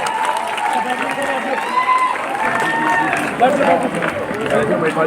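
Loud audience applause for a travel marketing company at its anniversary event, a thick continuous crowd clapping with some cheering, and voices underneath.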